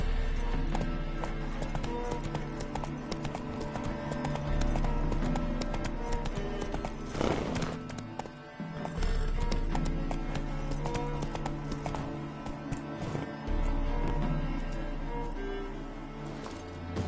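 Hooves of the horse Roach galloping in a video game, a fast continuous clip-clop at close range with a brief whinny partway through, set against steady game background sound.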